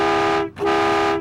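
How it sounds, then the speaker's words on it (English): A loud foghorn blast from an old lighthouse, two long steady tonal blasts with a brief gap between them, alone and close. "It usually takes a very loud foghorn blast to get her attention."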